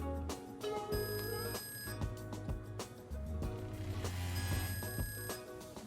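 Two sustained electronic beeps from a FeiyuTech Scorp C camera gimbal during calibration, each about a second long, sound one after another over mechanical clicks and rattling with faint background noise.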